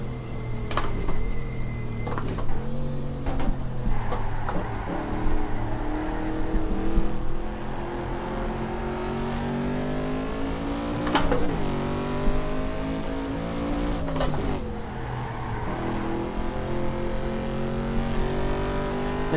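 Corvette engine in the GTR2 racing game, a continuous loud drone rising and falling through gear changes, with repeated upshifts and revving throughout.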